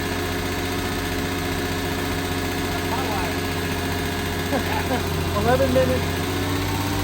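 A freshly rebuilt car engine idles steadily on its first start, a constant mid-low drone running throughout, while a person talks over it.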